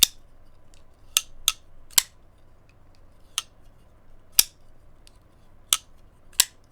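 Triiaxis Midnight folding knife flicked open and shut repeatedly, sharp metallic clacks spaced irregularly about once a second, close and crisp against near silence.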